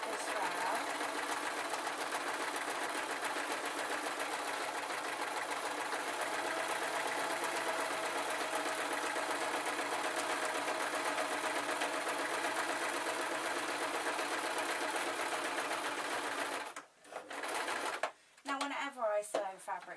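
A sewing machine stitches fabric fur for homemade slippers in a long, unbroken, rapid whir lasting about seventeen seconds, then stops, followed by a few brief handling sounds.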